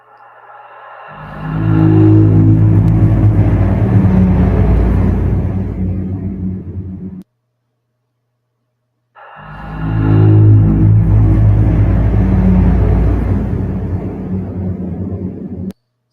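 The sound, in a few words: cave ambience sound effects in Unreal 5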